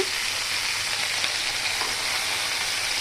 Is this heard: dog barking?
no